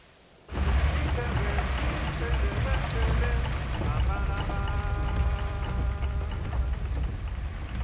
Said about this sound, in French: Filmer la Havane sous la pluie, j'en rêvais depuis longtemps.